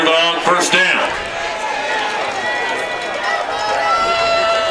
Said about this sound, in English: Good crowd here for Asheville homecoming.